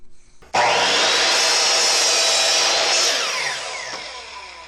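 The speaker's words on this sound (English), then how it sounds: "The first step in making the bottom bars is to cross cut our 2x4 into 12 by 3/16 inch" A power saw cross-cuts a 2x4, starting abruptly into one loud, steady cut of about two and a half seconds before winding down, close and alone.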